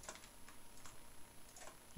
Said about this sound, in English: You can hear me like pounding on my keys here.